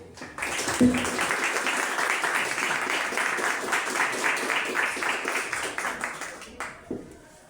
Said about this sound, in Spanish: demos un fuerte aplauso hacia nosotros aquí presentes por esta bella reunión que tuvimos el día de hoy